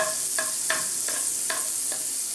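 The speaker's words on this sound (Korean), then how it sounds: "버터를 큰 걸로 하나, 한 큰술 넣어주시고 넣으신 후에 버터를 다 녹이세요" Butter melting and sizzling in a frying pan for fish meunière, a steady bright hiss with a few soft stirring clicks, close and continuous without voices.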